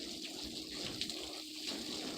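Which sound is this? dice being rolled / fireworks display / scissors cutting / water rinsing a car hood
water rinsing a car hood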